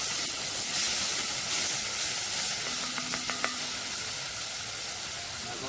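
Seasoning sautés in a pan for papaya sauce, a steady close hiss and sizzle with a few faint tonal clinks midway.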